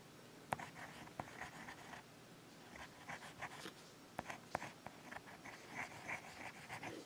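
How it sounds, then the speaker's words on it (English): A Jinhao fountain pen writes with its nib upside down, making quiet, scratchy strokes in short irregular bursts with brief pauses between them. No one talks. "For those who like to write upside down, which I don't understand, here it is."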